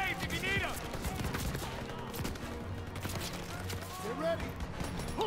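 Sustained video-game gunfire in a Call of Duty: WWII battle, dense overlapping bursts and shots crackling steadily across the whole stretch beneath game music and shouted voices.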